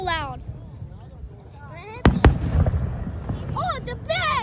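Fourth of July fireworks burst with two sharp, loud bangs mid-clip amid crackling, while people talk and exclaim throughout.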